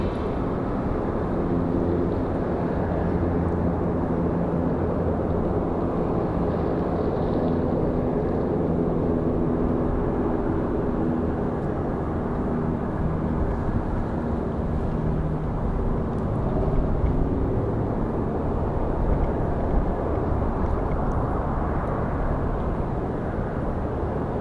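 Southwest airliner taking off from runway 23 left at Raleigh Durham airport, a loud continuous jet roar with low rumble, sustained and even throughout, no talking.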